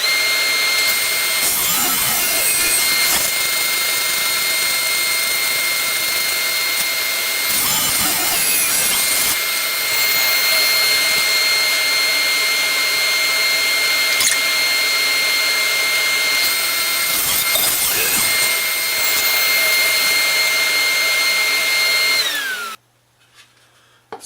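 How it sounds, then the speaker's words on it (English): A power saw runs loud and steady as it cuts a wooden board to 16 inches wide, with several heavier bursts as the blade bites, then stops abruptly near the end. "we're going to cut this to width of 16 inches"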